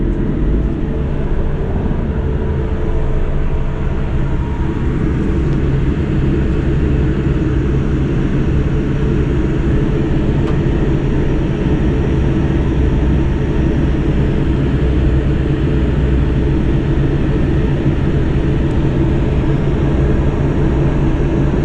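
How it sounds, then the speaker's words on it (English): Inside an SWR Class 158 diesel train, a steady low engine drone and rolling rumble fill the carriage as it departs, loud and continuous with no talk. "And now we're gonna listen to the departure of my train."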